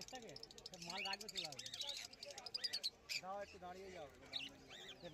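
Parakeets and conures at a rainy-day bird market in Uluberia, chirping and squawking in a busy, overlapping chorus beneath someone talking steadily throughout.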